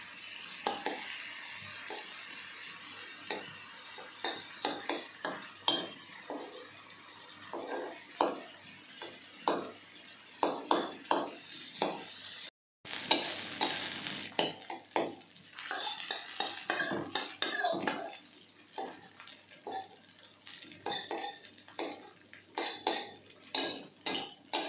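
Salted jambal roti fish frying in a pan, a steady close sizzle broken by frequent sharp clinks and scrapes of a utensil stirring and turning the pieces, with one brief pause midway.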